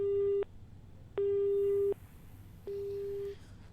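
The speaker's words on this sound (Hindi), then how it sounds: "चलिए लगता है फ़ोन डिस्कनेक्ट हुआ है पीसी शर्मा जी का भी।" Telephone busy signal after a disconnected call: three steady, loud tones, each roughly half a second to under a second long, separated by short silences, with no talking.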